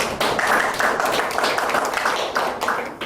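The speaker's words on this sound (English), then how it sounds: "Please, we're going to give a round of applause." An audience at a trade training event in Shanghai gives a round of applause for a speaker, with moderately loud clapping in uneven pulses that swells and fades slightly across the clip.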